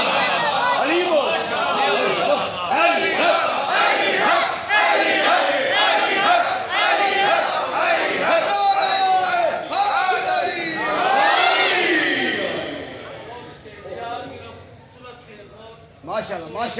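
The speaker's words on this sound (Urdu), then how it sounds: "علی بول" A large crowd at a 2023 Jashan poetry gathering in Multan shouts a religious slogan together, loud and continuous with overlapping voices, before it fades into scattered calls near the end.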